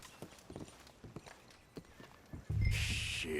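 Horse hooves clip-clopping in Red Dead Redemption 2, a string of quick soft hoof beats that gives way to a louder, denser rush of movement with a rising hiss near the end; no talking.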